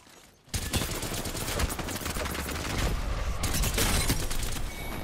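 Sustained automatic fire from the Havoc energy rifle in Apex Legends, a loud dense stream of rapid shots running continuously for several seconds after a sudden start, with mechanical clatter mixed in.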